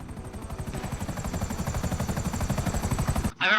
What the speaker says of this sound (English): Just gotta go down and grab a chopper now,